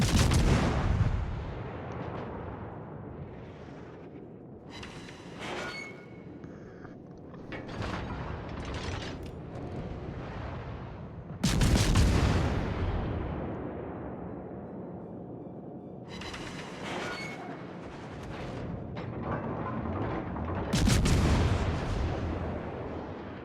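Naval artillery in World of Warships firing AP rounds between cruisers, several loud booming salvos spaced seconds apart, each a sharp blast with a long rumbling decay, amid mechanical clanks and creaks.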